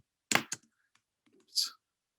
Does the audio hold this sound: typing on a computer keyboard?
yes